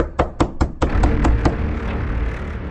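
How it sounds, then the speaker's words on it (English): Several sharp knocks on a front door with a glass panel, struck in a quick run of about five close, loud raps, then a few fainter taps over a low rumbling background. "I heard a knock at the door."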